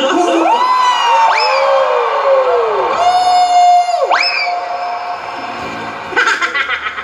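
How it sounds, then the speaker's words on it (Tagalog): Studio audience on a Filipino noontime variety show cheering and shouting over bright music, loud and sustained, with whoops and a rising swell near the end. "palakpakan na may kasamang sigawan"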